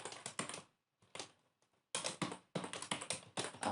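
Code being typed on a computer keyboard for a basic Python tutorial, with rapid, close bursts of crisp key clicks separated by brief pauses, no talking.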